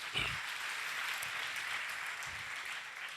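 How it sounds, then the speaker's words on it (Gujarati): An audience claps together at a religious satsang gathering, a steady, dense wash of hands that holds evenly for several seconds at moderate distance, with no voices over it. "એકવાર જોરદાર તાળીઓ વગાડીએ આપણે બધા."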